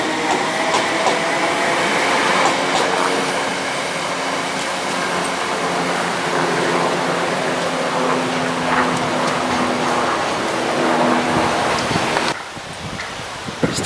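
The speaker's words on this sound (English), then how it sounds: "There's 318268, departing towards sidings at Dalmuir" Electric multiple unit 318268 departs towards the sidings at Dalmuir, a continuous rumbling roll of wheels and motors with some wind noise at the microphone, steady and fairly close before easing off near the end.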